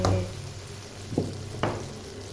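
Chana daal cooks over a medium to low flame with a soft, steady sizzle and bubbling, broken by a couple of faint stirring clinks; no one speaks.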